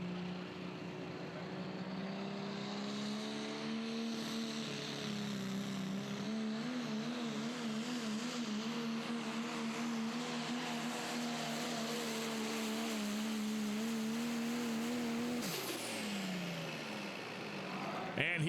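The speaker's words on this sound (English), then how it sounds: "Mac McVeigh and the Tombstone truck, as he starts to build a little bit of temperature and boost inside of that Ford" Ford pro stock diesel pulling truck at a Terre Haute, Indiana pulling event, its engine holding a steady droning note as boost and temperature build, then dropping sharply near the end, heard from a distance.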